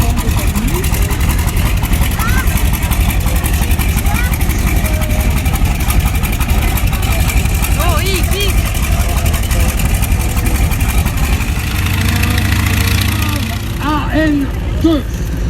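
A Douglas DC-3 piston engine runs at an airfield, a loud, continuous rumbling drone close by with a steady throb that lasts throughout.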